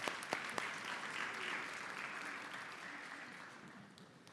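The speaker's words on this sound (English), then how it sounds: "Everybody give them a big round of applause" An audience at a children's class gives a round of applause, a dense wash of clapping that starts with a few sharp claps and then fades gradually toward the end.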